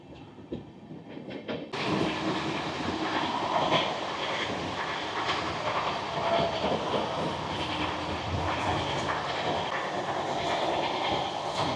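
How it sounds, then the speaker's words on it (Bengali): The Bhagalpur–Gomti Nagar Amrit Bharat Express races past at high speed, its sound jumping in suddenly and then holding as a loud, continuous roar of wheels and rushing air close by. "সেই ট্রেনটি দেখতে পাচ্ছেন ঝড়ের গতি নিয়ে এগিয়ে চলেছে গোমতীনগরের উদ্দেশ্যে।"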